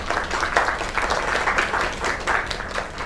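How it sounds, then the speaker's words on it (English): Steady applause from a crowd, many hands clapping together in a sustained, fairly loud wave. "Another round of applause."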